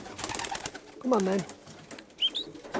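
Young roller pigeon hens give one clear, close, rising-and-falling coo, then a softer call, with a brief flutter of wings. Someone speaks briefly nearby.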